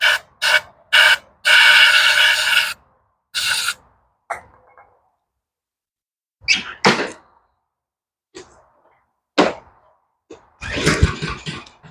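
Starter cord of a Husqvarna AWD riding mower engine, which has no spark, pulled repeatedly: several quick ratcheting rasps in a burst, then single separated pulls with the engine failing to start, close and loud.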